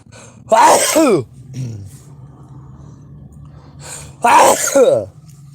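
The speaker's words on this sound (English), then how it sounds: "I'm going to sneeze one moment." Two loud sneezes, a few seconds apart, each a sharp burst with a noisy breathy release, with quiet room tone between them.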